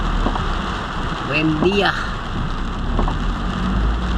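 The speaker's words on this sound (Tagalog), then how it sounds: "Bumuhos na" Heavy rain pours steadily over EDSA near Guadalupe in Metro Manila, a dense continuous hiss under brief speech in the middle.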